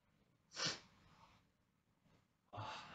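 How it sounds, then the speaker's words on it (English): A quick sneeze with a sharp breathy burst, followed moments later by a loud exhale or snort, close up and otherwise quiet. "I'm gonna sneeze."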